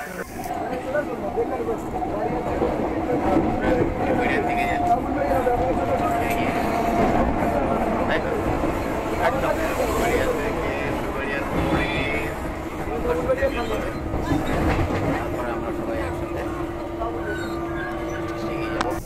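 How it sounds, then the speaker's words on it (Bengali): Train running from Howrah toward Kharagpur, a continuous loud rumble and rattle of the carriages on the rails heard from inside, steady throughout with some clanking. "হাওড়া থেকে ছেড়ে খড়গপুরের দিকে ট্রেন এগিয়ে চলেছে"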